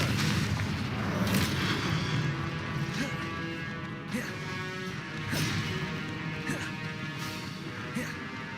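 Repeated Confringo fire-blast spells cast in the game Hogwarts Legacy, a string of booming, crashing impacts every second or so over a dense battle din, with a voice speaking at times.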